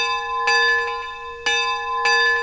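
A model locomotive sound decoder's electronic bell rings in repeated bright clangs at constant speed, clear and close, with a sustained ringing tone between strikes and no voices.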